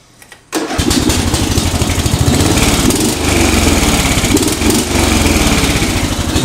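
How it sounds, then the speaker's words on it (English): A Craftsman race lawn mower fitted with a new exhaust fires up after a brief quiet start, then runs loud and close at a rough, throbbing idle with a steady rapid exhaust pulse. "We're going to do a new exhaust sound test on the lawnmower."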